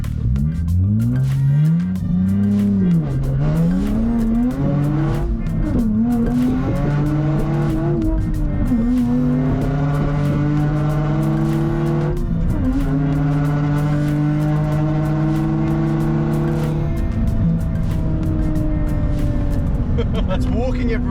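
A new Nissan Z with a 3-inch straight pipe exhaust launches down a drag strip: tires squeal at first, then the engine revs climb and drop through each gear shift in a loud, raspy roar that stays close throughout.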